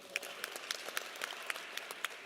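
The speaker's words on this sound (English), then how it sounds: "Give them a warm round of applause." An audience applauds at a university football coach introduction, a faint, thin patter of scattered claps with a few sharper individual hits, heard from a distance.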